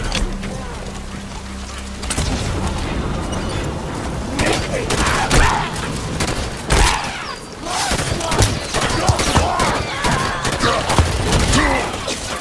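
Dense Halo 5 gunfire against Covenant forces with a Spirit dropship inbound: rapid overlapping shots and heavy thuds rise about two seconds in and continue loudly, mixed with booming impacts and mechanical game noise.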